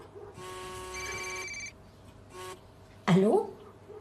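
A telephone rings in short harmonic bursts, two rings with a gap, fairly near, then a voice briefly speaks over a quiet room.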